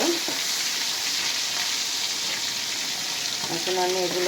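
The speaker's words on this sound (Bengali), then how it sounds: "এখন মাছগুলো ভাজা হয়ে গেছে, এখন আমি এগুলো তুলে নিব।" Taki fish fry in oil with a steady, hissing sizzle that stays even and moderately loud, with a faint tonal clink near the end.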